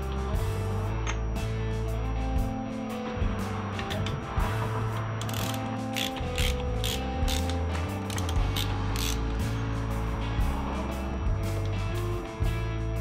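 A wrench ratchets and creaks against a bolt while working under a BMW E36 during an LS engine swap, with repeated clicking strokes and metallic creaks close by over a low hum.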